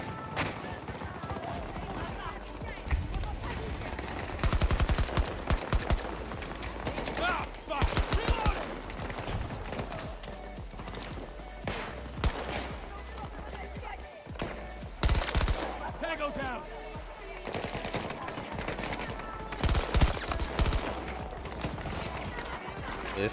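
Bursts of automatic gunfire from a weapon in the shooter game Battlefield 2042, loud volleys recurring in clusters amid other battlefield noise, with someone talking over much of it.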